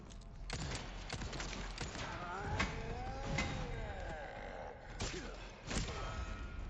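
In Resident Evil 4, a cow gives a long drawn-out moo over clattering game effects and thuds, fairly quiet and mixed with other in-game noise.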